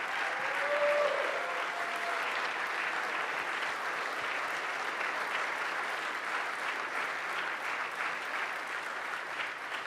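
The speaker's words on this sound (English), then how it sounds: "Please, a round of applause for the President of the United States of America" Sustained applause from an audience greeting the President of the United States, steady dense clapping filling the whole stretch with a brief whistle or cheer near the start.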